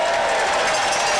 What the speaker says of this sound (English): Can we have a round of applause once again for Representative Robert Garcia